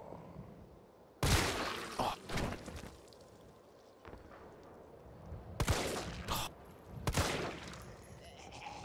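Gunfire in Resident Evil 3, several loud, separate shots with echoing tails, spaced irregularly with quieter gaps between them.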